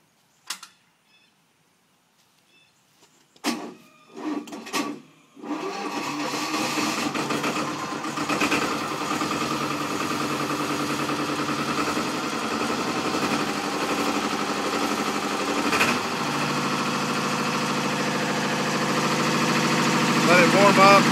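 A recently serviced 4-stage 3500 PSI scuba compressor, a few knocks and clunks first, then starts up and runs with a steady loud mechanical drone that holds for the rest of the stretch.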